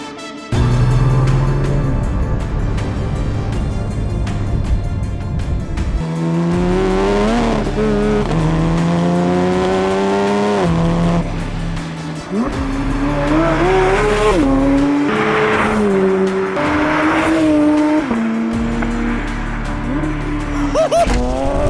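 Car revving and accelerating on a drive, engine pitch climbing and dropping through repeated gear changes, loud and close, with tire squeal mixed in.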